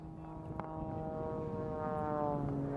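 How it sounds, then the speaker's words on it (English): An Edge 540 aerobatic plane climbs at the Hill Air Show. Its propeller engine is a fairly faint, distant droning hum whose pitch rises steadily and grows slightly louder as it gains altitude. "aircraft is the Edge 540. Watch as he gains altitude."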